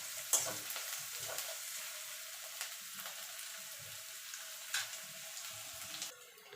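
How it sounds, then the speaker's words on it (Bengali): Chopped onion sizzling in hot oil in a wok, a steady close hiss broken by several scraping spatula stirs and light clinks, no talk. "পেঁয়াজটাকে একটুখানি হালকা করে ভেজে নেব"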